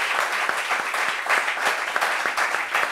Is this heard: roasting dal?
no